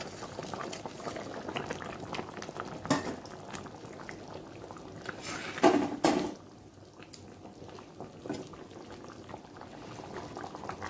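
A fish roe curry with potato and pointed gourd bubbles in a pan, a continuous close simmer of popping bubbles and hiss with a brief louder burst of sizzle midway, then settling back to a gentler boil.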